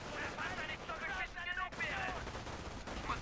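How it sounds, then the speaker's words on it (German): Machine gun fire in the video game Company of Heroes, dense rattling bursts that run continuously and blend with battlefield noise and voices in the background. "Die haben eine MG auf uns ausgerichtet!"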